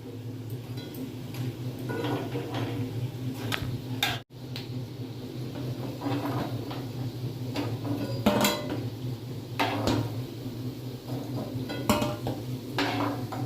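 Fried drumstick-flower fritters are lifted from a frying pan, giving repeated light scrapes and metallic clinks of a utensil against the pan over a steady background hum, close by and fairly quiet, with no speech.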